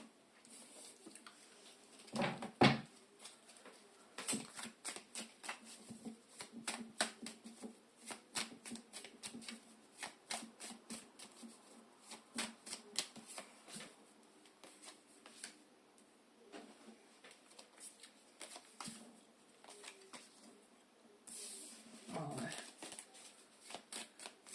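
Tarot cards being shuffled by hand during a reading, a quiet run of soft riffling flicks and papery taps in irregular bursts, with a few louder knocks and brief pauses between handfuls.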